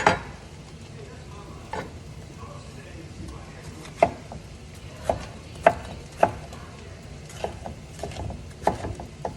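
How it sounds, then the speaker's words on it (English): An orange pepper chopped with a knife on a board in a home kitchen, giving scattered sharp taps and knocks at an uneven pace, close but fairly soft over a low room hiss. "let me chop up this other pepper. This one's an orange pepper."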